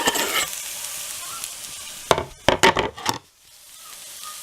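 Onions, with a bit of skin still in, brown slowly in a pan for a homemade pizza topping. A soft, steady sizzle runs throughout, broken midway by a few sharp clattering stirs before it settles to a quieter hiss.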